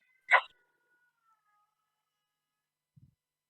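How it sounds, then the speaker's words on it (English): A house cat lets out a single short howling meow in the background, faint and brief, followed by quiet and a soft low thump a few seconds later; no talking. "My cat's just howling in the background for some reason."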